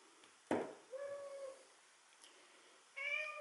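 A house cat meows twice, each meow short and quiet, close by in a silent room. A sharp thump comes just before the first meow.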